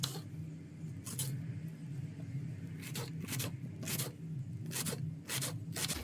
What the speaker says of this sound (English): this is how I cut onions